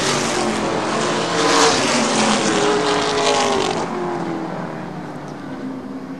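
Late model stock cars roar past at Baer Field Speedway, several engines blaring together in a loud, continuous pack that swells and then gradually recedes down the straight.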